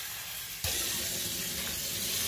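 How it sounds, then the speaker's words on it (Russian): Tap water starts running at full force into a pot of small whole aspen bolete caps for pickling, a steady close splashing rush that continues without pause after a quiet start. "Заливаем водичкой."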